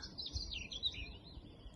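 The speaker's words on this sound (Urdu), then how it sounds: "یہ چڑیوں کی چہچہاہٹ آپ سن رہے ہوں گے" Sparrows chirping outdoors in spring, with faint, quick high twittering calls at a moderate distance over quiet background ambience.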